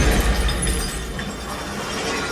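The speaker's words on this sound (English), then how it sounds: "a cloud of debris blooms and shards of glass trail overhead" Glass shattering effect from a Dolby Atmos demo on a Samsung HW-Q990C soundbar, a dense, bright crash of scattering shards and debris filling the whole short stretch at steady loudness.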